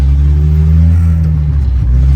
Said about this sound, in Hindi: अब गाड़ी जरा भगा के चेक करते हैं